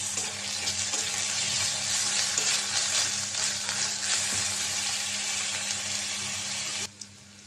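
Garlic paste sizzles in hot oil with fried onion, green chilli and ginger paste in a home kitchen pan, a steady broadband hiss that holds loud and even before cutting off abruptly near the end.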